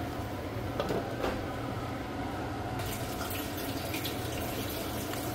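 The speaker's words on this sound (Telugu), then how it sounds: "1 గ్లాసు వాటర్ వేసుకొని ఉల్లిపాయని ఉడికించుకుందాం" A glass of water pours into a pan of onions seasoned with turmeric and chilli for Andhra dondakaya pulusu, a steady splashing gush that shifts in tone midway, close and continuous.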